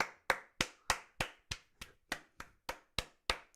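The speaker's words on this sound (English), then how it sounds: "Round of applause" A single person claps their hands slowly and evenly, about twelve sharp, close claps spaced roughly a third of a second apart, each one distinct against near silence.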